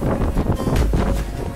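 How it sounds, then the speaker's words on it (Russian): Strong wind buffets the microphone in loud, rumbling gusts, with no voices. "Ветер ужасный."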